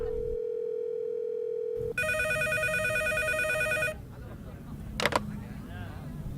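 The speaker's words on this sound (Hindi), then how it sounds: "पब्लिक टेलीफोन बूथ पर इनकमिंग कॉल कैसे आ सकती है?" A public telephone booth phone rings in a South Indian film scene dubbed in Hindi: a steady electronic tone, then a loud, sustained trilling ring that stops abruptly, followed by quiet room sound and a brief clatter.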